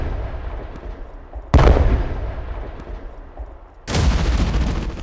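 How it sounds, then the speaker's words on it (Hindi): Kalashnikov rifle fire aimed at a hovering drone in a war zone: two sharp, loud bursts of gunfire, each followed by a lingering rumble, set against a continuous low outdoor roar. "दोनों सैनिक उस पर अपनी कलाश्निकोव राइफल से गोली चला रहे हैं"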